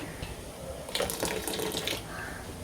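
Water running from a tap into a batter while cooking, a brief steady splashing stream of about a second over quiet kitchen background.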